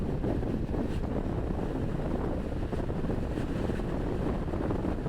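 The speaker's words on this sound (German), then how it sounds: "Ein kalter Wind" Cold wind at a 4700-metre mountain pass on a motorcycle ride through the Andes between Chile and Argentina, a steady loud low roar buffeting the microphone without pause.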